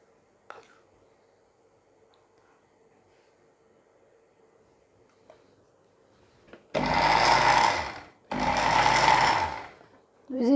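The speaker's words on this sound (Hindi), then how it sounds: "मक्खन और चीनी को बीट कर लिया।" An electric hand mixer beating butter and sugar for an almond cake, starting after a quiet stretch with faint clicks and running in two loud, steady whirring bursts separated by a short pause.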